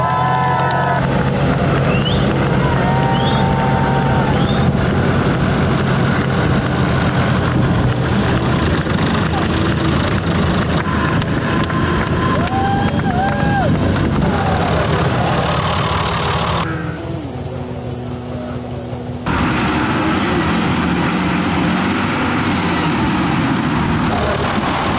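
Tractors lining up at the start of a tractor race, a dense continuous rumble of several engines idling and revving, loud and close, with voices talking over it and a brief dip in the noise.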